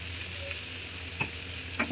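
Potato, beans, capsicum and peas fry quietly in a pan for a vegetable polao, a low steady sizzle broken by a couple of brief stirring clicks, with no talking.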